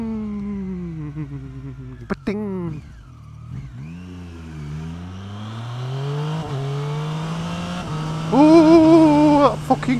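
A motorcycle accelerates hard through several rapid quick-shifter gear changes, the engine note climbing then dropping sharply at each shift, loud and close, ending in a high rev.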